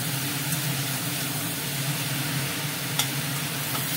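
Half a kilo of mushrooms and a generous amount of large onions frying in mustard oil, a constant close sizzle with a faint low hum beneath and one brief click, no one speaking.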